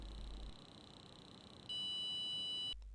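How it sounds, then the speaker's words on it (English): A single steady electronic beep from a SCENAR sport D therapy device holds for about a second, clear and close, over a faint background hum. "you will hear the long beep."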